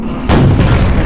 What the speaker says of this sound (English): Those damn grenades, man.